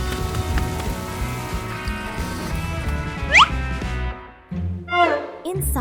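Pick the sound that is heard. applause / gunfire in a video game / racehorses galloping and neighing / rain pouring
rain pouring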